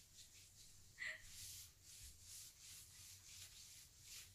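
Clothing fabric rubbing against bare skin, giving soft, faint swishing and scraping sounds that come in gentle repeated strokes as the wearer moves, close up and quiet.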